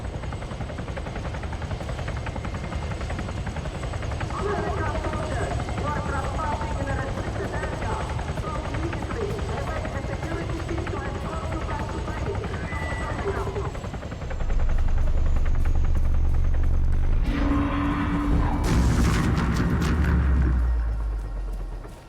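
A military helicopter in the video game Arma thunders with steady rotor thumping, then swells louder and nearer before fading, with voices speaking at times over it.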